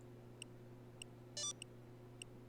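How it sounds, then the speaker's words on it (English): Beeps from the video game Kingdom Hearts 3: four or five short, evenly spaced high electronic beeps over a steady low hum, with one brief brighter chime in the middle, all faint. "It's just the beeps and ticking."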